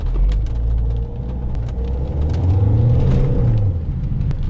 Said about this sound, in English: in weather like this without traction control you're going to get only wheel spin